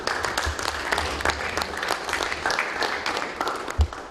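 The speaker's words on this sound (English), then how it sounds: "Let's clap a hand for Sue." A crowd claps for an honoree at a Congo flag raising ceremony at Manchester City Hall, with steady, moderately loud applause from a modest gathering lasting through the few seconds.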